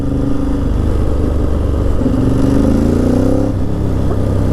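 Ducati motorcycle engine running close by with a deep, throaty idle that rises into a rev with climbing pitch midway, then settles back, loud and alone without talk.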